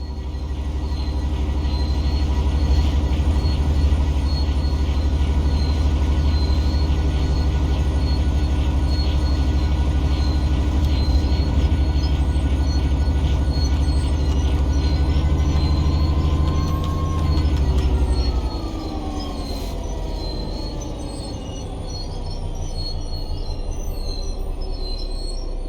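Heavy rail rumble from a train in Train Sim World 3, with a rising metallic wheel squeal as the brakes bite near the end, loud and close, no voices.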